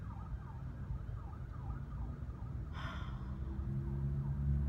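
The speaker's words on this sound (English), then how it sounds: "Cue more sirens." A siren wails in a repeating rising and falling pattern over steady low rumble, with a brief noisy burst partway through.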